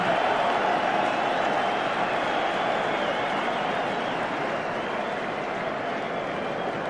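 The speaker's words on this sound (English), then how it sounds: "The crowd cheer them to the echo." A large stadium crowd cheers and applauds England's rugby side at half-time in a 1993 test match against New Zealand, a steady, dense roar of voices and clapping that holds throughout.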